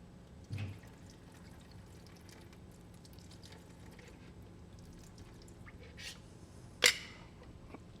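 Reserved noodle cooking water is poured out of a pot in a kitchen. There are a couple of brief, quiet splashes and trickles against low background hiss, with no talking.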